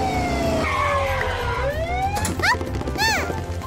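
A cartoon police car's siren wails in rising and falling sweeps over a steady, rhythmic music bed, loud and up close.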